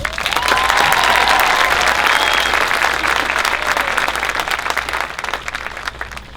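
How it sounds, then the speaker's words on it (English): A stadium crowd at a graduation ceremony breaks into loud, sustained applause with some cheering, steady throughout before thinning slightly toward the end. "So let's give us a big round of applause."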